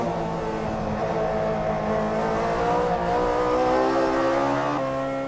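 Toyota AE86 Hachiroku race cars on 15-inch wheels battling bumper to bumper at Tsukuba circuit, engines droning loud and close with rising and falling revs, a gear change near the end.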